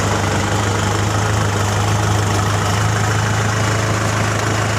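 A Kubota M6040 tractor's diesel engine runs at a steady, loud idle-like drone with a strong low hum and constant vibration while the gear is shifted, with no voices.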